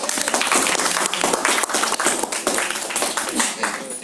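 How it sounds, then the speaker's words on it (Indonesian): An audience at a university presentation gives a loud, sustained round of applause with individual claps standing out, while voices talk over the clapping throughout. "Tepuk tangan dong."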